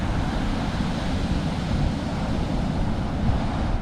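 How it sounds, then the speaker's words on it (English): Large ocean waves break on a secluded beach in a continuous, full roar of surf, mixed with wind rumble on the microphone and no talk. "Wow, there's some big waves out there."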